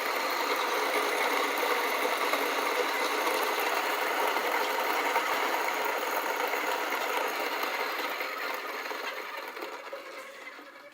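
An Acaia Orbit coffee grinder grinds 10 grams of beans with a steady, dense whirring rasp that holds level and fades a little toward the end, with no talk over it.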